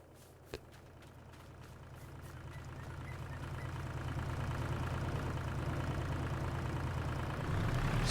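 A tractor engine runs steadily in Farming Simulator 22, a continuous low mechanical hum and drone that grows slightly louder over time, with one brief sharp click near the start and no talking.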